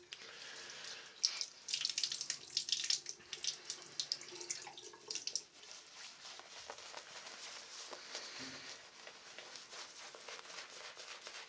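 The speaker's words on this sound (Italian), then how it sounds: "Quindi andiamo ad aggiungere ancora altra acqua." Water runs from a tap into a sink while shaving soap is being mixed, a steady splashing stream close by, louder at first and then settling into softer trickling and dripping.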